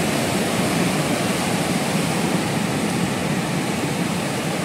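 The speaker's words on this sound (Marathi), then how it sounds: "आणि या बंधाऱ्याच्या वरून लाटा बाहेर मारतात या कंपाऊंडच्या आतमध्ये." Sea waves crash over a seawall on the Konkan coast at Ganpatipule, making a loud, unbroken roar of churning surf, heard close and with no voices.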